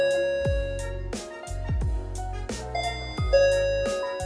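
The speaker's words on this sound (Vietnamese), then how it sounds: "Khi mà mình kích vào nút chuông này thì nó sẽ có phát ra tiếng kêu." Chime bell of an Inter-M 6000 building announcement system, a series of clear, resonant electronic ding-dong tones ringing one after another and decaying cleanly, with no voices over them.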